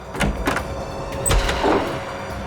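A door being forced open during a struggle in a CID crime drama, heard as several loud thumping impacts and rattles spread across a couple of seconds.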